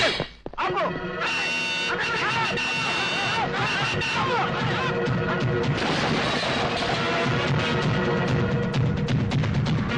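A lorry crashes through a check post gate with a loud smash. A dense, continuous roar of noise and shouting voices follows close up.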